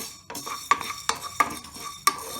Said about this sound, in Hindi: मेथी दाना को डालकर हम हल्का सा भूनेंगे